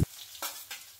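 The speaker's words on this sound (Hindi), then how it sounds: "इसके बाद चॉप किया हुआ प्याज डालेंगे और उसे थोड़ा हल्का हल्का भूनेंगे।" Chopped onion hitting hot oil seasoned with cumin and coriander seeds for a dhaba-style lasooni palak, giving a brief loud initial thump and then soft sizzling with two stirring swishes, with no talk.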